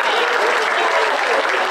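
An audience at a scholastic sports association fish fry applauds and cheers in a dense, loud, continuous wave that fills the whole short moment.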